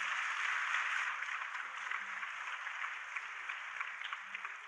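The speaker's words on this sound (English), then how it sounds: "Yeah, we can applaud." An audience at a women and girls in science event applauds, steady, fairly faint clapping that holds evenly for several seconds.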